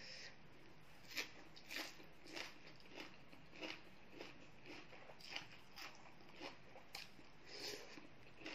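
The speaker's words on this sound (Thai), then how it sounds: "หูหมูนะมันต้องเคี้ยวนาน" Someone chews spicy Thai pig ear salad up close with moist, crunchy bites, about one chew per half second in a steady rhythm. The chewing is quiet and there is no talking.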